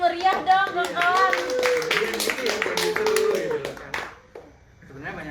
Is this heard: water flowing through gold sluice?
no